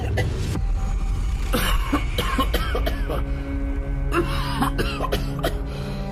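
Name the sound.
man choking and coughing loudly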